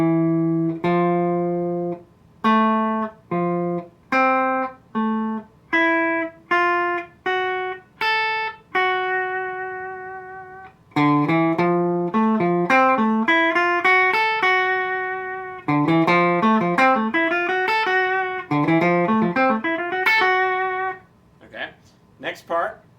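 Electric guitar lick played slowly, with clean single notes plucked one at a time in a halting rhythm, then a quicker run of phrased notes, alone and close.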